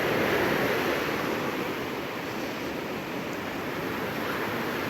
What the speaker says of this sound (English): The waves come right up to me, maybe a little bit around me, but they cannot touch me.